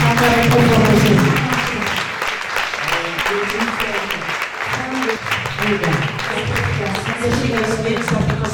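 A church audience applauding loudly and steadily for Jesus, a dense continuous roar of clapping with cheering voices throughout.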